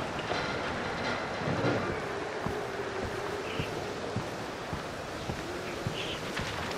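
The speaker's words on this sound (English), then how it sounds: "Whatever it is, it's gumming up the tram's gears." Tram machinery grinding and rumbling in the video game Concrete Genie, its gears gummed up, a dense continuous mechanical roar with irregular clacks and knocks throughout.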